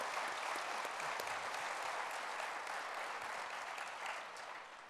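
An audience at a tech conference applauds after a short pitch: steady, dense clapping from many hands, even and sustained before tapering slightly at the end, with no talking.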